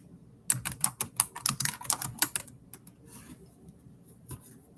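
Quick bursts of clicky keystrokes on a computer keyboard, a fast flurry of taps that slows into a few scattered key presses, close and clear with no voices.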